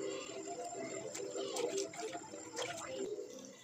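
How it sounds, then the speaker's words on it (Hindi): Unripe green mangoes being rinsed under running tap water, with a steady close splashing stream and irregular sloshing and knocks as the fruit is turned by hand. "अब ऊपर से साफ़ पानी से एक दफ़ा फिर धो लूँ"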